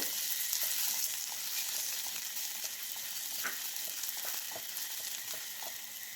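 Onions sautéed with salt in a pan for a potato carrot coconut milk stew, a soft steady sizzle with occasional stirring scrapes, moderately close and unaccompanied by speech.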